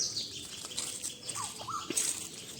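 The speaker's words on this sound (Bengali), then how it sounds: "পাখির আওয়াজ তো আছে তার সাথে পাখি আছে" Birds chirping in village woods, a few short, faint calls and tweets scattered over a quiet outdoor background.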